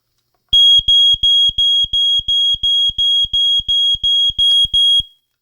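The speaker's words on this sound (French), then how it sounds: "un détecteur avertisseur autonome de fumée classique qui va se mettre à biper" A loud, piercing smoke detector alarm beeps in a steady run of about a dozen evenly spaced pulses during a test, then stops.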